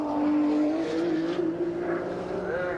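A Nissan GTR racing at Bathurst during the 1991 Tooheys 1000 shootout, its engine note a strong steady tone that rises in pitch as the car accelerates, loud and fairly close.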